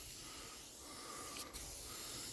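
WD-40 is sprayed into a snowblower's chute and auger as a steady, faint aerosol hiss that runs throughout, with a brief gap near the end and no talk.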